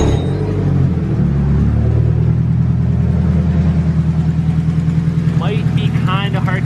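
A Nissan 240SX with an SR20DET engine idles loudly in a garage, its steady exhaust drone covering a faint tick from a cracked exhaust manifold, with a voice talking briefly near the end.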